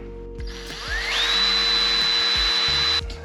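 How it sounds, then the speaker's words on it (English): A power drill turns a bolt extractor into a snapped bolt on a Honda B-series Integra engine, spinning up close to a steady high whine for about two seconds before cutting off, with a few small knocks underneath. "So I'm going to try my luck with an extraction kit."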